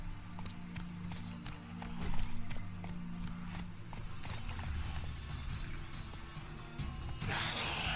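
A horse gallops in The Witcher 3, with rhythmic, fairly quiet hoof clip-clops repeating steadily under game ambience and a brighter burst of sound at the very end.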